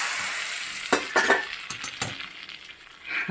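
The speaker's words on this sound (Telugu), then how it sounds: "ఇలా సలసలా మరిగే దాంట్లో పోపు వేసామనుకోండి" Tempering spices hit boiling sambar, bringing a loud, crackling sizzle that comes in bursts with stirring clatter and a spoon knocking against the pot, then settles to a bubbling hiss.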